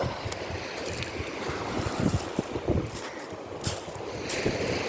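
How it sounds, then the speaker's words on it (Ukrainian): A rescue boat out on open sea off a beach in Italy, with wind buffeting and waves lapping around it, a steady moderate wash with a few louder gusts. "Я так розумію, що це рятівний катер."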